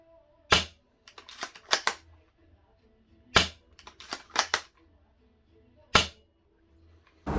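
Sharp snapping shots from a Double Eagle M66 airsoft sniper rifle firing BBs, spaced single cracks with softer mechanical clicks of cycling between them, close by.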